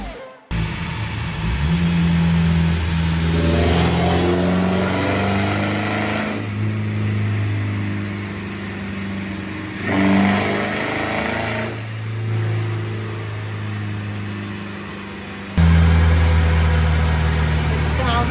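A Mercedes 2.0 CDI diesel car engine roars under load on a dyno, rising and falling in several long revving passes, loud and close, with a sharp jump in intensity near the end.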